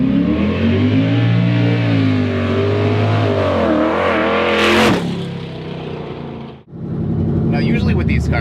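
Cammed 2011 Chevrolet Camaro 2SS L99 V8 revs loud and close, with a steady, lopey roar that climbs near the middle, then a sharp cut and a rougher idle-like rumble. Someone talks over part of it.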